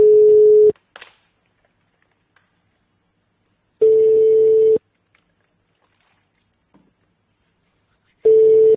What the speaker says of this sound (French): Ismo, je t'appelle tout de suite.